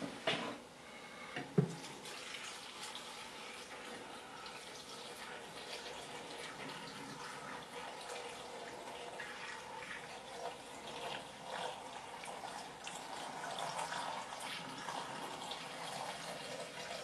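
Tap water runs in a steady, even stream, filling a container for a plug-in kitchen appliance; the flow is quiet and continuous throughout, with one brief knock near the start and no talk.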